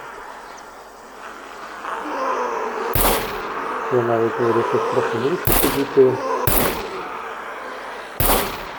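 Gunfire in the survival game SCUM: a handful of sharp, loud shots spaced irregularly, the first around three seconds in and the last near the end, over someone talking and a droning, tonal background.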